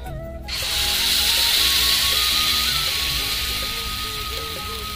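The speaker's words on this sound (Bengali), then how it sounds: "এবার আমি বেটারটা এর মধ্যে ঢেলে দেব।" Semolina and potato batter hits a hot pan on medium flame after white sesame has gone in, and a steady, loud sizzle starts abruptly and holds close for several seconds.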